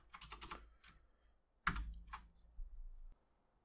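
Keys clatter on a computer keyboard in quick, close bursts, a rapid run of clicks followed by a few separate taps.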